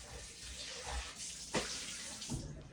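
Faint running water from a tap splashes over a big sieve being rinsed in a bowl, a soft continuous hiss with small clinks and splashes.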